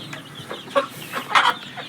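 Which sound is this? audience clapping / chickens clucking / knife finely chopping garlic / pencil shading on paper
chickens clucking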